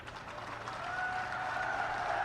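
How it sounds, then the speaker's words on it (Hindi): An audience at a public political rally applauds, a soft, distant wash of clapping that swells slightly over a couple of seconds, with no voices over it. "नहीं नहीं, अभी ताली मत बजाइए"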